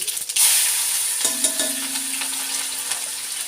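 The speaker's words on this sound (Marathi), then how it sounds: "याची फक्त मी फोडणी दिली आहे" A cumin and green chili tempering sizzles in hot oil, a continuous close hiss with a few light stirring clinks, and no one speaking.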